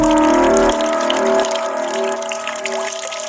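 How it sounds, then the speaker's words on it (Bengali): Water pouring steadily from a tap in a haunted-factory ghost cartoon, a loud continuous gushing splash heard up close and alone, with no talking. "জলের আওয়াজ তাড়াতাড়ি করে এসে দেখল একইভাবে জল পড়ছে"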